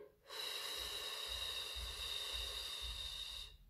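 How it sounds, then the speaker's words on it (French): A slow, steady exhale during a calming breathing exercise, heard as a long even rush of breath lasting about three seconds, close and fairly loud, with no talking. "J'expire."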